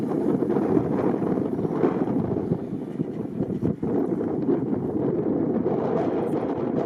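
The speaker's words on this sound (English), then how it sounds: "It's super, super windy" Strong wind roars steadily across the microphone, a dense rumbling buffet with one brief dip midway.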